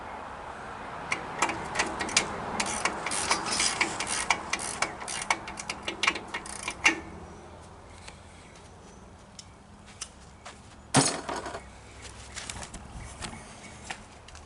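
Tension adjusters on the rear chain of a 1996 Honda Magna 750 are backed off with a wrench, giving close, irregular metallic ticks and clicks. A sharper clunk lands near the end.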